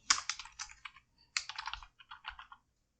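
Close, crisp computer keyboard typing as a curl command is entered at a command prompt, coming in two quick bursts of keystrokes with a brief pause between them and near-silence around them.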